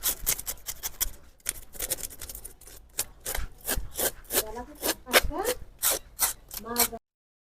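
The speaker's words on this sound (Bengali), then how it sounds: "ডুমুরের পাতা দিয়ে মাছটা সুন্দর করে ঘষে ঘষে কালোটা থাকে সেটা উঠিয়ে নেবে" Fish rubbed with fig leaves to strip off the black skin while preparing a Bengali silver fish curry, heard as a steady run of close, rough scraping and rubbing strokes, with a voice talking partway through.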